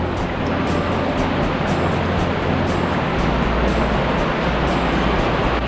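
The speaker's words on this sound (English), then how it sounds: "Here, a pretty sweet, freaking awesome waterfall." A mountain waterfall on Bolam Pass in the San Juan Mountains rushes in a loud, steady roar of falling water that continues unbroken throughout.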